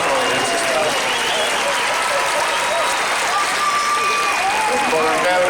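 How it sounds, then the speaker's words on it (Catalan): Audience applause at a Nou Barris event, a dense, loud and continuous clapping that holds steady throughout, with a murmur of voices mixed in. "Pot aplaudir, sisplau."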